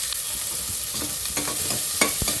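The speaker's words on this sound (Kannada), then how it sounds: "ಸಣ್ಣಗೆ ಹೆಚ್ಕೊಂಡಿರೋಂಥ ಈರುಳ್ಳಿ ಹಾಕ್ತಾ ಇದ್ದೀನಿ" Finely chopped onion hits hot oil with cloves, cinnamon, bay leaf and cardamom, a steady loud sizzle with a few stirring scrapes over it, close up.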